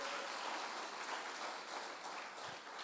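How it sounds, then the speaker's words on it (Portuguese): A church congregation claps in applause, a faint, continuous wash of many hands from a distance with no clear voices over it. "As palmas para Ele"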